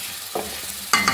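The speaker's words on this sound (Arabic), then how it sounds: "انا ضفت التوابل ديالي وغنخليها تشحر مزيان وتهبط" Onions with spices frying in a pan, a soft sizzle broken by two short bursts of stirring.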